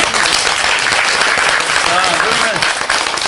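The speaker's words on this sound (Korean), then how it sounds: "감사를 드리는 박수 한 번 더." Audience applause fills a Korean lecture hall, dense and steady throughout, with a voice speaking briefly over the clapping.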